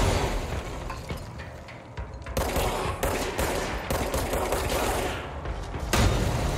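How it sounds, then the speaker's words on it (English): Gunshots in the video game Control, a dense stretch of rapid, overlapping shots and crackling impacts, loud and continuous with brief bursts of breaking noise. "I shot him in the dick until he exploded"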